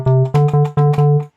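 In Ableton, low synth bass notes triggered from a computer keyboard sound in a steady run of five or six punchy, close notes at an even rhythm, with nothing else heard.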